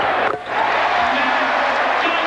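Basketball arena crowd at an NBA game between the Sacramento Kings and Philadelphia 76ers, a steady loud roar of cheering throughout with a brief dip near the start.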